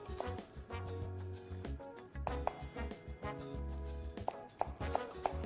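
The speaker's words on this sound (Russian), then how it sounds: "И нарезаю зеленую часть." A knife chopping the green part of a green onion on a cutting board: short, crisp taps in irregular bursts, close and quiet, mixed with soft handling noises.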